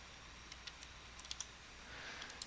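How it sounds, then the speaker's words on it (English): Computer keyboard keys tapped a handful of times, light irregular clicks close by over a faint steady hum, with no speech. "hit the delete key on the keyboard"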